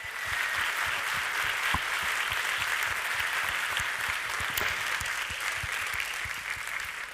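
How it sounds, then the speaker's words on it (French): A crowd at a Puy-de-Dôme business awards ceremony gives the 2023 winners a steady round of applause, a dense, even wash of clapping with occasional louder individual claps, continuous and moderately distant without speech. "un tonnerre d'applaudissements à nouveau pour nos lauréats 2023"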